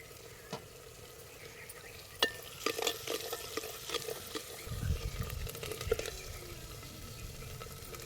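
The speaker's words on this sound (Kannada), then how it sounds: "ನೋಡ್ರಿ ಮಸಾಲೆ ಎಲ್ಲ ಚೆನ್ನಾಗಿ ಹಿಂಗೆ ಹುರಿಯಾಕತ್ತೈತಿ" Masala with mint and fresh coriander frying in oil and being stirred, quiet crackling sizzle with scraping and clinking of a spoon, growing busier and a bit louder partway through, close by.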